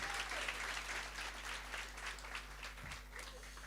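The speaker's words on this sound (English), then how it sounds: "One more time, a round of applause for all our finalists" Audience applause for the finalists at a strategic goals workshop and expo, steady and moderately faint clapping over a low hum.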